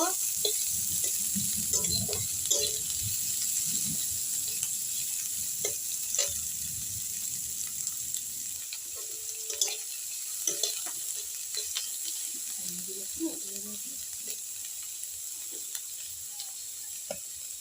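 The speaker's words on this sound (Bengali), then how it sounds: "কুচানো পেঁয়াজ ভেজে নেব।" Chopped onions fry in a pan with a soft, constant hiss and sizzle, broken by occasional stirring scrapes and light clicks, fairly quiet and close throughout.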